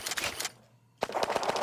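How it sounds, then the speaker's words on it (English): Rapid semi-automatic pistol fire in a video game, a quick burst of snappy shots, a brief pause, then another fast string of shots. "Now I can fire much more quickly."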